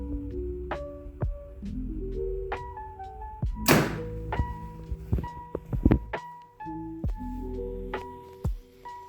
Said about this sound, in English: So now I'm going to shoot through the chronograph just to see what we're shooting as far as speed goes.